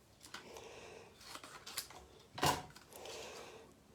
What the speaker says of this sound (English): And I'm going to cut this off because I don't want to put all that through the cut and emboss machine.